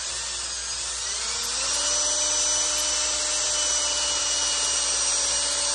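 A wooden ramrod for a .36 flintlock rubbed with coarse 60 grit sandpaper, a continuous close, loud whirring scrape that holds steady and grows slightly louder partway, without speech.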